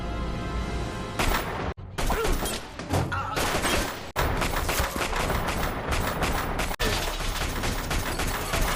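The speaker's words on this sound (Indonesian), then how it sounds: "Jeff pun menghadang mereka hingga aksi baku tembak terjadi." Gunfight during a prison break in a film, rapid volleys of gunshots and crashing impacts packed tightly together, loud and continuous with a few sharp breaks.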